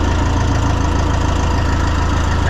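A John Deere 2020 tractor engine runs with the choke partly out, a loud, close, steady low chugging with even rhythmic pulses throughout.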